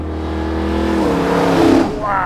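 A Gateway Bronco Luxe-GT restomod SUV engine accelerates hard, its note rising through the revs in a loud, close, climbing roar, then dropping briefly as it shifts and climbs again at the end.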